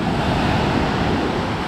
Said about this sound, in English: This Atlantic Ocean is different. It's rough, it's big